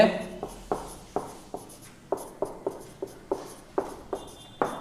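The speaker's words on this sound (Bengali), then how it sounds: "আচ্ছা এরকম করে লিখি" Handwriting during a maths lesson on set relations: about a dozen quick, scratchy pen or chalk strokes come in an uneven rhythm, close and fairly quiet, with no talk over them.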